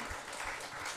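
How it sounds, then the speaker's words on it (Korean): A congregation at a Korean church revival meeting claps together in praise, a steady mass of applause heard in a short burst with no clear voices over it. "우리 하나님께 영광의 박수를 한번 간절한 마음 한번 올리시기 바랍니다"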